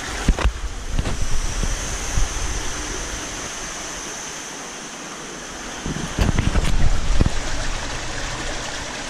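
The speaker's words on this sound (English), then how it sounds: "the water smoothly and evenly runs down or showers down on the" Water showers evenly down onto nylon mesh pot-scrubber biomedia in a large outdoor pond filter, a steady rushing splash with occasional louder surges and wind noise.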